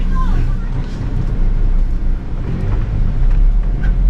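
A motorcycle engine passes outdoors, a continuous rumbling drone that swells and fades under nearby voices talking.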